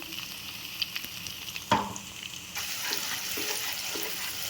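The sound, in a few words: onion, green chilli and ginger-garlic paste frying in a pan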